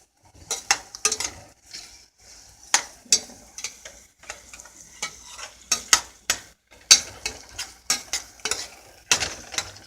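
A spoon stirs tomato velvet soup in a pot, making close, irregular scrapes and sharp metallic clinks in quick bursts separated by brief pauses, with no talking.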